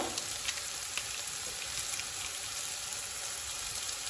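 Maggi noodles frying in a pan, a steady close sizzle and crackle with light scraping from stirring, continuous and even throughout with no talking.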